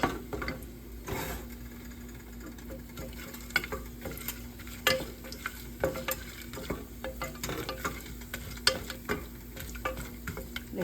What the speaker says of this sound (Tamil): லேசாக ரோஸ்ட் ஆனால் போதும்.